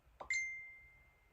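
A single phone notification chime rings out, a short tap followed by a clear, bright tone that lingers and fades over about a second against near silence.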